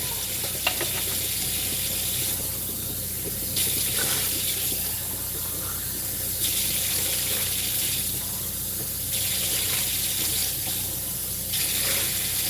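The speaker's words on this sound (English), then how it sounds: "Hot water touching a cut." Hot water runs steadily from a tap into a sink, a continuous broadband gush that swells and eases in slow waves for several seconds, close and fairly loud, with no talking.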